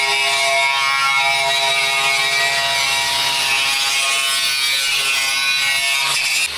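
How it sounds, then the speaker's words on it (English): A needle gun buzzes steadily at close range, chattering against rusty metal on a Land Rover, a loud continuous rattling drone with no talk. "I can do that with the needle gun."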